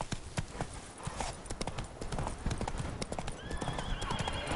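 Roach, Geralt's horse in The Witcher 3, gallops with a rapid, steady clip-clop of hooves close by, a whinny rising near the end over ambient game noise.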